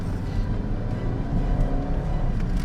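An Audi A3 diesel car starts and accelerates, a close, steady engine rumble that swells slightly partway through, with no voices.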